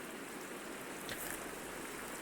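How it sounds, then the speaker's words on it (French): Rain falls in a Minecraft game world, a soft steady hiss of drops that continues evenly and fairly faint throughout, with no talk over it. "Il pleut, super."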